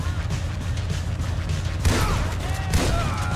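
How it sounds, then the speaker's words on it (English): Gunfire in Grand Theft Auto V, a steady roar of combat noise with two sharper shots standing out in the second half, close and fairly loud. "Alright, shot him twice."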